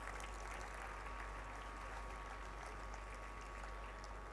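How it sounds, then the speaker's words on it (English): Audience applause for awardees at a school annual day ceremony, a steady dense wash of clapping filling the hall throughout, moderately loud with no voices over it. "Please show your appreciation and clap for these awardees."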